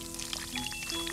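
Water pours steadily from a hose onto a thirsty plant in a greenhouse in a children's puppet show, a continuous close splashing that runs through the whole short moment.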